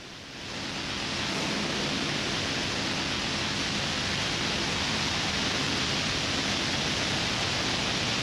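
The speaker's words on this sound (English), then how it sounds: "So what you hear is 15 kilonewton thrust." A 15 kN liquid oxygen and methane rocket engine roars through a static test firing, a dense, steady broadband rush that swells in over the first second and then holds constant and loud without a break.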